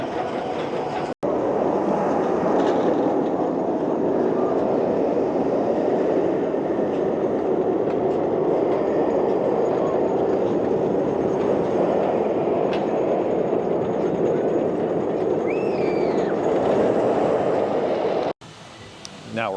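Steady rumbling roar of roller coaster trains running nearby at Kings Dominion, with a continuous rushing, rattling wash of noise throughout and a brief break near the end.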